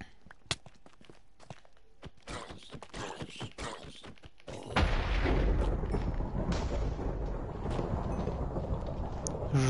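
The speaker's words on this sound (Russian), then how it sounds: "Жесть, что за гром?" Thunder rumbles in the Minecraft video game, a loud rolling roar that swells midway and holds steady, following a stretch of quick clicking and tapping sounds.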